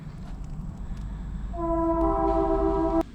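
Rumbling train on nearby railroad tracks at the Abraham Lincoln Boyhood National Memorial in Indiana, with a long, chord-like horn blast that starts partway through and cuts off abruptly just before the end.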